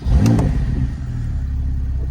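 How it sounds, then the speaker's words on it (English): A Porsche 991 Targa 4 GTS engine cranks and fires into a loud rev, then settles into a steady, deep rumbling idle up close. "If I start the car"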